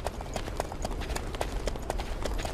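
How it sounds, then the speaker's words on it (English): Horse hooves clip-clop in the BackStab HD video game, a quick, steady run of sharp hoofbeats over a rumbling background, continuous and close throughout. "Here's your horse."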